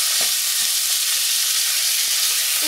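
Minced meat for kibbeh frying and simmering in a pan, a steady close-up sizzle with scattered soft pops and a few stirring scrapes, no voices.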